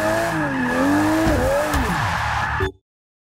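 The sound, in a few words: Dodge Viper GTS car engine in Forza 6 video game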